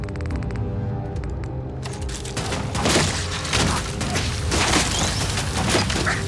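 Missile explosions in the video game Fallout 4: a run of heavy booms and crashing blasts with rumbling debris, coming one after another at close range over a steady game background with no talk.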